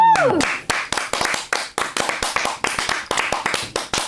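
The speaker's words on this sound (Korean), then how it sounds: "박수 한번 주시죠." A small group clapping hands, sharp claps in a quick steady rhythm after a brief voice at the start, close and moderately loud.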